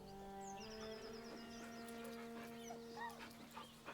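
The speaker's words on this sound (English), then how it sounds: "With a deep, heartbroken whine, the dog bows his head." A dog whines in Baldur's Gate 3 as it stands by a corpse, with long, drawn-out whimpering tones over a quiet game soundscape and soft music.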